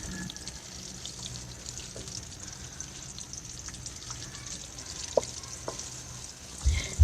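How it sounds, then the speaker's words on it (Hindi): Onions or spices frying for a white chickpea (channay) curry, giving a steady, close sizzle with a few soft stirring knocks throughout and a louder clatter near the end. "इसे हल्का सा फ्राई करते हैं हम।"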